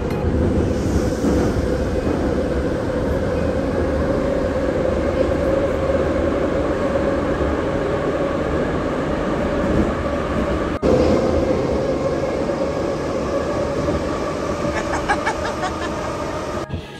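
A train pulls into a railway station near Moscow on a cold night, a loud continuous rumble of rolling wagons and wheel noise with wind buffeting the microphone.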